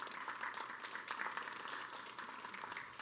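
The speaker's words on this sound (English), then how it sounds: "Let's have a round of applause for those." Quiet applause from an audience at a talk about the SS United States ocean liner, a soft continuous patter of many hands heard from a distance with individual claps faintly standing out.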